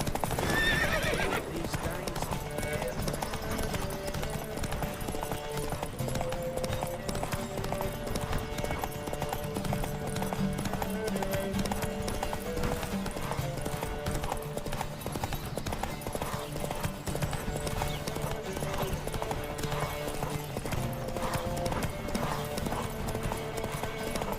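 A horse gallops flat out in a race in the video game The Witcher 3, rapid hoofbeats drumming without pause, a whinny near the start, all layered over steady game music.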